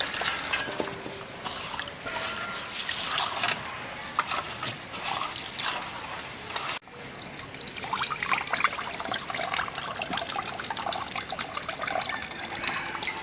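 Soaked khesari lentils being washed together by hand, with water splashing, trickling and sloshing in a vessel, close and steady, with a short break midway.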